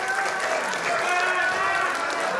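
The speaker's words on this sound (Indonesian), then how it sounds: "Tepuk tangan untuk kita semua." Audience applause at the second public debate for Depok mayor and deputy mayor candidates, 2024: a steady, dense wash of clapping throughout, with a murmur of voices and a faint tonal layer mixed in.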